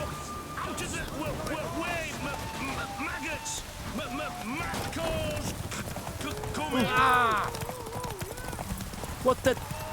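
Horse hooves clip-clopping rapidly through a horse race in The Witcher 3 game, steady galloping rhythm close up under someone talking, with occasional splashy ambience.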